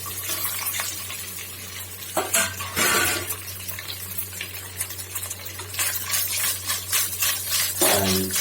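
Cut pieces of rava idli fry in a pan with curry leaves. Close scraping stir strokes and bursts of crackling sizzle come in uneven waves over a low steady hum, with no voices.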